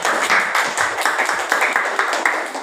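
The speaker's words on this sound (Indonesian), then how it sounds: "Oke, tepuk tangan untuk kelompok 2." A class claps for a group of students in a classroom, with dense, uneven hand claps continuing for a few seconds, close and lively, with faint voices mixed in.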